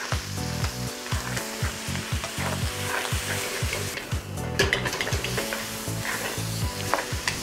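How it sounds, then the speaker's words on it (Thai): Onions stir-fry in a pan with bacon, a steady sizzle carried under brisk, rhythmic scraping and clattering of a utensil against the pan, close and fairly loud with no talk. "ตอนผัดหัวหอมนะครับเราจะต้องให้หัวหอมของเราเนี่ยสุกแบบโอเวอร์คุกไปเลยนะครับ"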